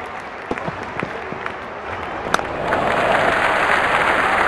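Crowd in the Real Cricket 19 video game at a Bangladesh vs Pakistan match, scattered claps and thuds giving way to a swelling, sustained roar of cheering that grows louder toward the end.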